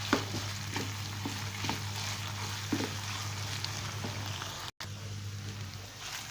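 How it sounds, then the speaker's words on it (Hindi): Soft, continuous sizzling of minced meat (qeema) frying on high heat, with a low steady hum underneath and a few faint clinks of stirring. "2 मिनट सिर्फ़ु हिनखे असां तेज़ बाहि ते भुञंदासीं"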